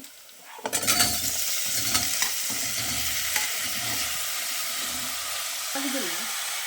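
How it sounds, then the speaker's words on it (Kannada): Onions frying in a pan for a Mangalore cucumber curry, a steady broadband sizzle starting after a brief quiet moment, with stirring scrapes and faint background sounds throughout. "ಈರುಳ್ಳಿ ಚೆಂದ ಕೆಂಪು ಬಣ್ಣ ಬರೋ ತನಕ ಫ್ರೈ ಮಾಡ್ಕೋಬೇಕು ಚೆನ್ನಾಗಿ ಫ್ರೈ ಮಾಡ್ಕೋಬೇಕು"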